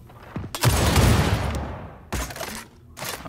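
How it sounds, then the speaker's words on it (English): Gunfire in Gears of War 4 from a different kind of shotgun: a loud, sustained roaring blast followed by a second close, punchy burst and a trailing rumble, with no speech. "It's a different kind of shotgun."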